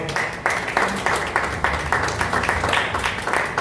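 A church congregation clapping in a quick, steady rhythm, regular bursts of hands at a lively tempo, moderately close with no talk over it.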